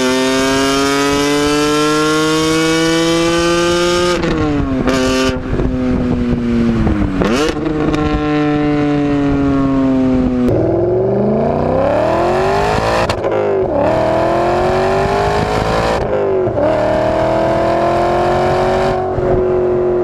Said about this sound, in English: In the E39 M5, you've got a throaty V8.